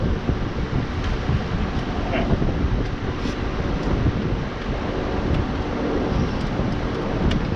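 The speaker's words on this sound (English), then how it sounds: "It is windy." Strong wind buffets the microphone with a constant low roar and rumble throughout, no pauses.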